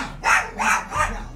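A dog barks three times in a quick, evenly spaced series, close and fairly loud, with brief quiet gaps between each bark.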